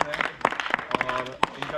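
A small group claps for Sohail Ansari at a Sehri ride camp gathering, a short, scattered patter of hand claps mixed with talk.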